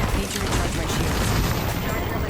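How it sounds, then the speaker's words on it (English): Dense, continuous gunfire and booming blasts fill an Apex Legends match, loud and steady throughout with no pauses, and faint talk mixed underneath. "Now there's a lot more gunfire going on everywhere."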